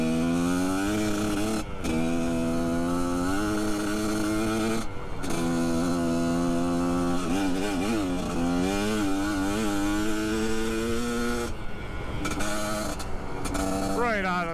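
A 2021.5 GPX Moto TSE250R motorcycle ridden in low gear, its engine a close, steady buzzing drone whose pitch climbs and dips with each rev and shift.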